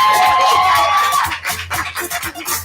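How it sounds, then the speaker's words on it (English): A crowd applauds at a speaking event, a tonal sound fading out early as clapping and cheering build in loose bursts, fairly loud and close, without talk over it. "Give a round of applause for that."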